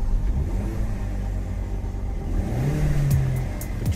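A 2019 Ford Mustang EcoBoost convertible's turbocharged engine rumbles from inside the car, then revs up with a rising whine and settles back, heard close with no talking.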